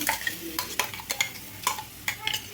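Quiet sizzling in a pan as a spatula stirs and scrapes repeatedly through frying coconut masala.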